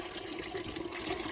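Hot water trickles down into a frozen underground water line, a faint, steady liquid trickle with small gurgles, quiet and alone.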